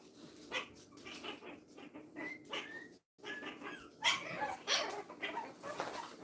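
A puppy whimpers and yips in short, high whines, mixed with faint rustling and a few soft barks nearby.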